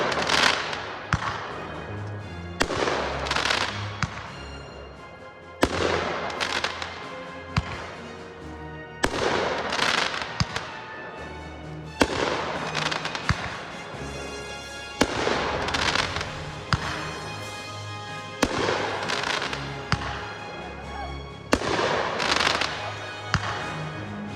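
Fireworks set off outdoors burst in a steady series of loud, sharp bangs and crackles roughly every couple of seconds, with faint voices in the background.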